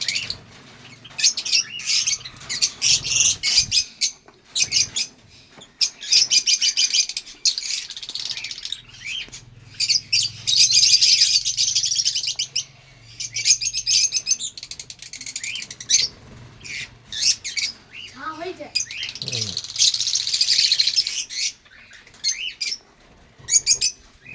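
Pet birds chirp and squawk in rapid, busy bursts inside a breeding cage, the chatter close and continuous with short gaps between flurries.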